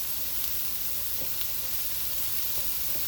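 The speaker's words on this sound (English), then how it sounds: "Alright, so I'm going to drop my little pieces of sausage in here." Vegan sausage pieces sizzle in a skillet for vegan fried rice, a loud, continuous frying crackle with occasional sharper pops and stirring clicks, and no talking.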